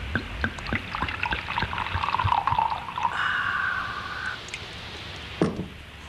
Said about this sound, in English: You poured the lemonade from the pitcher into this glass